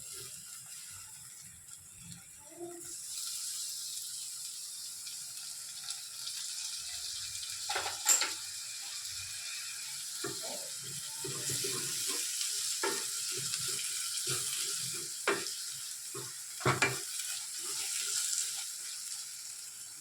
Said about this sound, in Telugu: పేస్ట్ మనకి వేగమే వేగిపోద్ది అడుగు పట్టకుండా కలుపుకోవాలి